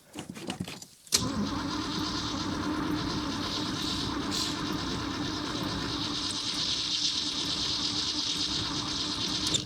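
An old car's engine cranks and catches in freezing, below-zero weather, then settles into a steady, loud, rough idle that runs without a break to the end, close by and with no talk over it.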